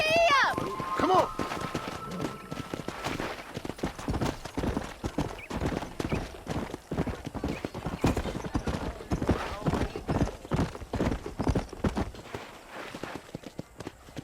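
Hoofbeats of a horse galloping in the Red Dead Redemption video game, a steady rapid clip-clop running nearly throughout with a short whinny at the start, and spoken voices and game sounds mixed in over it.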